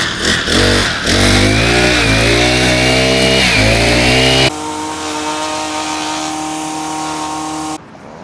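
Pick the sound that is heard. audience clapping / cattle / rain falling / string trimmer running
string trimmer running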